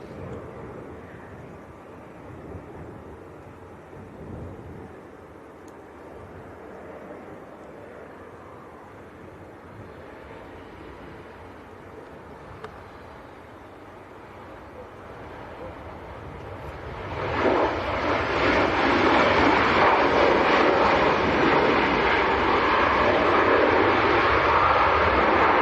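A Ryanair airliner from Dublin arrives at Leeds Bradford Airport, its engine roar swelling from a distant hum into a loud, sustained rushing noise over the final seconds, with faint talk earlier.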